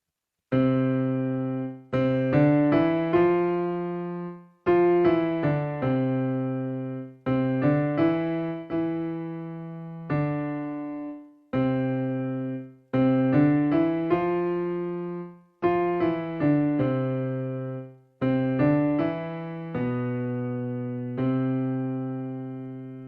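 Two-handed piano playing: a low repeated bass part under a bouncing higher melody, steady and clean, with short gaps between phrases.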